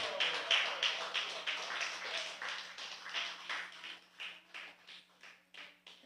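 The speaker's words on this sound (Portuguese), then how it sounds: "Aplauda o Senhor" A church congregation claps during a Sunday worship service, filling the room with several seconds of dense applause. The clapping gradually thins into slower, distinct rhythmic bursts, with no voices heard over it.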